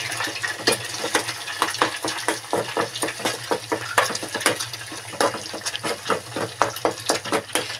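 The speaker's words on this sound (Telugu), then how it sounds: "ఎగ్స్ వేసిన తర్వాత అండి ఇలా బీట్ చేసుకోవాలన్నమాట" Eggs are beaten and stirred in a pan with a utensil, giving rapid, rhythmic scraping taps at close range over a faint, steady sizzle and hum.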